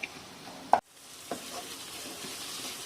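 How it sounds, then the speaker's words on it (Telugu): Ginger garlic paste fries with softened onions in a pan for an egg pulusu, giving a quiet, steady sizzle after a brief sharp clink and a short dropout near the start. "ఈ స్టేజ్లోనే అల్లం వెల్లుల్లి పేస్ట్ వేసుకుందాము. దీంతో కూడా కలిపి ఫ్రై చేద్దాం."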